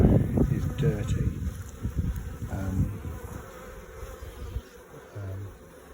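Honey bees buzz around a hive built inside a plant pot full of plants. The close, dense hum runs throughout under a voice and some wind rumble on the microphone.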